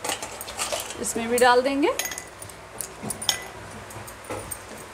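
Ice cubes dropped into aam panna (raw mango drink), a few bright clinks and knocks against the glass with a brief ringing tone, while someone speaks briefly.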